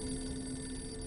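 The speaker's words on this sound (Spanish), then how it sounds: "el agente que hacía de periodista italiano llamó otra vez a Ham Shiri" A telephone rings with a steady electronic tone, heard alone and moderately quiet.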